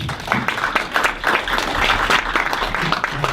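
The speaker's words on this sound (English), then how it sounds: "Another round of applause." Studio audience applauds steadily after a guest's talk at an event, a dense wash of clapping at close range that holds for the whole stretch with no speech over it.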